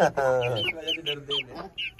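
Hens and a rooster clucking and calling inside a village coop where a sick rooster sits, a series of close, overlapping squawks and clucks with short pauses between them.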